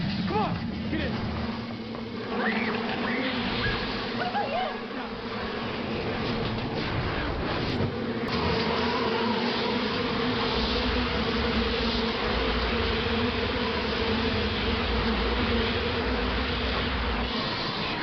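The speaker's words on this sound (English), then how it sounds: "Sounds like bees!" A swarm of bees drones in a sustained, steady buzzing hum that runs throughout, with people talking over it.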